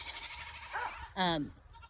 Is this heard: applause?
no